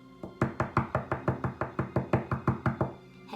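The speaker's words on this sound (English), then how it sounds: "she knocked on the door." About fifteen steady, evenly spaced knocks on a wooden door, close and crisp, with nothing else behind them.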